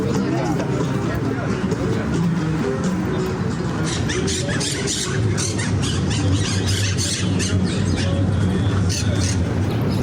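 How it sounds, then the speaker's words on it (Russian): Parrots squawk in palm trees in Seville, a dense run of sharp calls over steady crowd babble and talk nearby. "Здесь очень много попугаев."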